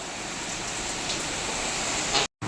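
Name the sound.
heavy rain with wind and thunder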